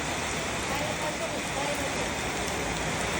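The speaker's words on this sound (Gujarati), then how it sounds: "વરસાદ એટલો આવે છે તો કેવો આવે છે કડા પડે કડા" Dense, steady hiss of heavy rain pouring down, broadband and unbroken throughout.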